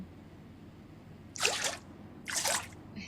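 Water poured in the Bakery Simulator video game for bread dough, two short splashing bursts about a second apart over a quiet background.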